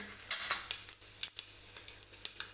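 Cumin seeds crackle in hot oil inside a pressure cooker, with a steady low sizzle broken by several sharp spoon scrapes and clinks against the metal, close and fairly quiet.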